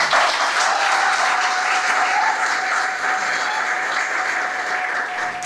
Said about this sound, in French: je m'en vais vous demander d'applaudir fortement dans la salle